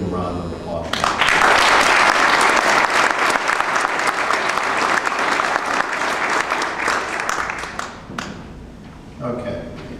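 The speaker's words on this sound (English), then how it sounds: "I think we should just give him a round of applause." An audience applauds at a WWII POW ceremony held at a veterans hospital in Pennsylvania, a full round of clapping that swells quickly, holds steady for several seconds, then tapers off.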